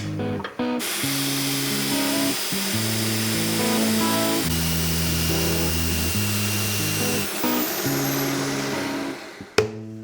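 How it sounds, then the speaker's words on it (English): A natural-edge wooden hollow form is sanded on the lathe, giving a continuous whirring, shifting power-tool drone with changing pitch, ending in a sharp stop. "Bit of sanding"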